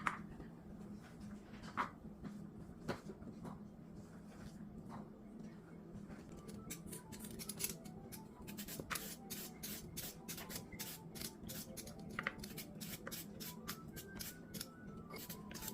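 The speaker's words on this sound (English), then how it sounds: "This is the green beans I'm slicing" A knife slices fresh green beans on a cutting board while jollof rice is being prepared, producing a steady run of quick, crisp ticks that speeds up midway, faint and close over a low background hum.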